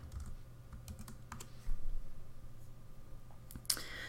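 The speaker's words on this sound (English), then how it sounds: "I'm just going to go ahead and put in my password." Someone enters a password on a computer keyboard, producing a few quiet, scattered key clicks in a near room with low background hum and a slightly louder tap near the end.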